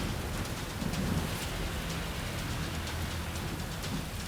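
Heavy monsoon rain pours steadily over flooded Mumbai streets, a dense, continuous hiss of drops hitting surfaces with no voices.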